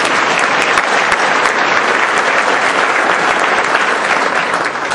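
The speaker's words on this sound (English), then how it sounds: "Yes, let's applaud." Sustained, dense applause from an audience at an awards ceremony honoring a First Amendment award recipient, loud and steady for the full length with no talk over it.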